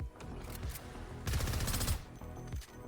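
Rapid bursts of automatic gunfire crackle in a Call of Duty match, dense and continuous with a heavier volley in the middle, heard alone without talk.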